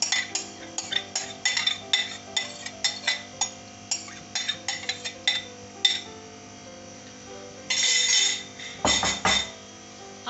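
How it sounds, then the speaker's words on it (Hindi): A metal spoon clinks and scrapes against a cooking pot as chicken karahi with cream and yogurt is stirred, giving a quick, irregular run of sharp taps followed by a brief rustling scrape, close and fairly quiet. "हम अब इसके अंदर चम्मच चलाते रहेंगे"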